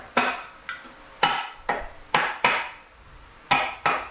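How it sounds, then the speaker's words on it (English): A hammer strikes the fan on a 1963 Corvair engine with about nine sharp metallic blows in an uneven rhythm, loud and close and ringing briefly, with no one talking. "is it bad that I'm gonna start just hitting this with a hammer?"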